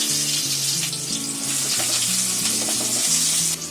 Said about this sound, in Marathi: हा कांदा लाल करून घ्यायचा आहे आपल्याला